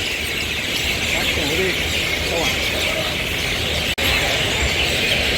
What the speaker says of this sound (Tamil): இதுக்குள்ள சரியான பறவைகள் சத்தமாக இருக்குது. மைனாவா? முள்ளுக்க மைனா தான்.